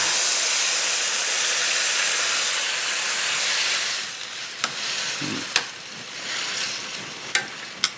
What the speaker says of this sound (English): Let's add the tomato and all of its juice.